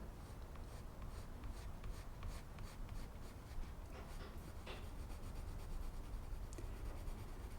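An earth-green coloured pencil rubs steadily across paper in soft, continuous scratchy strokes while colouring ivy leaves, faint and close.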